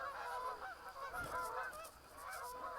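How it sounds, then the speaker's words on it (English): Geese honk repeatedly in a continuous flock chorus, loud and close, layered overlapping calls without talk, heard outdoors beside a farm field. "Geese are dumb."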